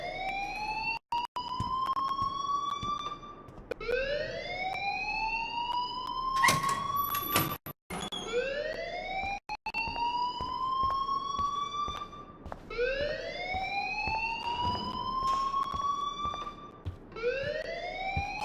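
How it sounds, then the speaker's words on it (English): In the video game Life Is Strange, a loud alarm wails in repeated rising sweeps that follow one another steadily throughout, with brief sharp interruptions between some cycles. "please turn off that alarm since that's your job"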